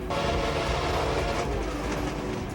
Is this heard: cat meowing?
no